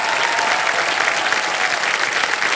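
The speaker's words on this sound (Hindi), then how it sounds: "एक बार जोरदार तालियां बज जाएं इनके लिए" Loud, sustained audience applause on a TV quiz show set fills the space evenly, many hands clapping at once without a break.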